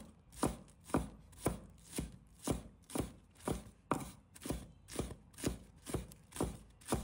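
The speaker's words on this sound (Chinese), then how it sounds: "把它切成葱花" Knife chopping green onions into small scallion pieces on a cutting board, about a dozen crisp, evenly spaced chops close up, alone with no talking.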